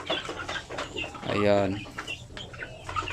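Chickens raised for sale by the kilo give a clear drawn-out cluck in the middle, surrounded by scattered chirps and clucks and a brief spoken word.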